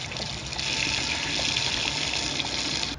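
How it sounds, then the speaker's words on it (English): Water pours steadily into a portable toilet inside a Sprinter camper van, a close continuous gushing splash for about three seconds with no talking. "put a little bit of water in here just to fill it back up a little bit"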